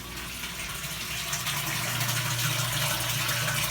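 Water runs steadily through a float valve into an aquaponic system, a continuous close gushing and splashing that swells slightly and holds without pause, with no voices.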